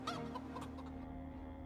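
Chickens clucking in the video game Project Zomboid, a few short close clucks at the start over a steady low background hum, then only the hum.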